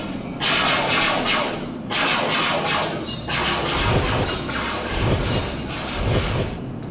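A Moscow Metro train on the Circle Line rumbles steadily with a surging roar and faint wheel squeal.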